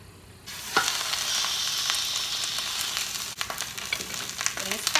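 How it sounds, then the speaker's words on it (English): Meat hits a heavily oiled hot pan and sears with a loud, sudden sizzle that holds steady and close, broken by a brief dip and a few clatters of utensils. "Pretty heavily oil the bottom of the pan, because I want to sear the meat before I pop it in the oven to cook."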